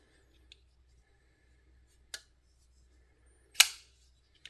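A Kubey Anteater folding knife gives a few sharp, close metallic snaps as the blade flicks open and shut, with crisp isolated clicks between quiet gaps.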